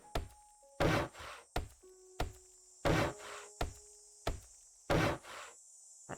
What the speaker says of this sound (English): Meant to be some kind of crickets